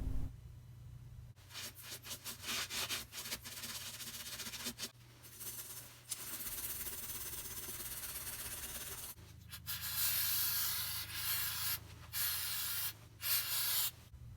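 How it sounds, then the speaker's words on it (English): Rust and debris are cleaned from a Lexus steering knuckle during a front wheel bearing and hub replacement: faint spraying hisses and scrubbing, rubbing strokes come in uneven bursts with short pauses, close by and with no talking. "Clean out all of the rust and debris from the steering knuckle prior to installing the new wheel bearing"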